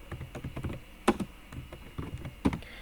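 Quick, light keystrokes patter on a computer keyboard, with irregular taps close up and a couple of louder key presses standing out.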